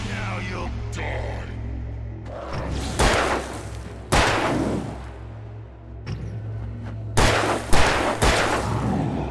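Gunshots in Alan Wake Remastered: several sharp, loud reports spaced a second or more apart, each with a thudding echo, over a low droning background.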